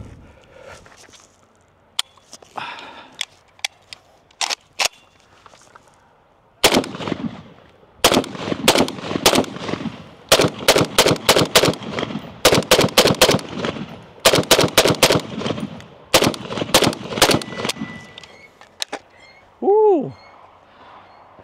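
PSA Krink rifle with an FB Radom magazine firing outdoors: a few spaced single shots, then long runs of rapid loud cracks in bursts, ending with a short falling whistle-like tone.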